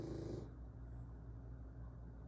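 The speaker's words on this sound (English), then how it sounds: "I am so sorry if you hear Uzi snoring in the back" A French bulldog snores softly in the background, low rhythmic rumbling breaths repeating steadily and faintly, with a brief higher tone at the start.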